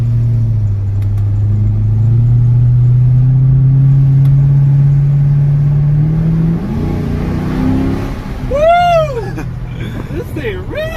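A Corvette that was once flooded revs up during a test drive, its engine droning louder and rising steadily in pitch, then tires squeal and voices shout excitedly near the end.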